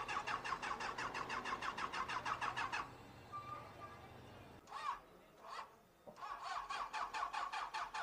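A Benelli 600i motorcycle, overheated after a highway ride, cranking repeatedly with a rapid rhythmic starter chug that fails to catch, stops, then resumes. Voices talk during the pause.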